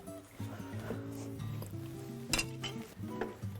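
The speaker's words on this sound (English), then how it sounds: "Give that a stir for me, Ashton." A utensil stirs potatoes in a small cast iron skillet, sounding as a quick series of clinks and scrapes against the pan with a few sharper metallic knocks, close and moderately loud, with no voices.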